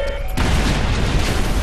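Gunfire in the video game Watch Dogs breaks in suddenly after a brief quieter moment, then continues as a loud, dense, rumbling burst of shots and booms.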